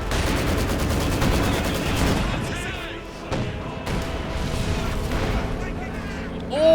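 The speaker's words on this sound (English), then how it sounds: "mine went off, killing the combat engineers" In the video game Company of Heroes 2, a mine blows up beneath combat engineers amid ongoing battle noise, with bursts of gunfire, thuds and booms layered under a commentator's voice.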